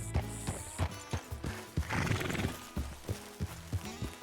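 Horse in Red Dead Redemption 2, rhythmic clip-clop of hooves on hard ground with a neigh in the middle, close and clear without talk.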